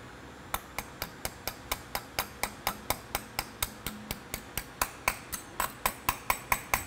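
Ejector pins being worked into the holes of a family mold, heard as a steady run of sharp, close metallic taps about four per second that build slightly louder toward the end.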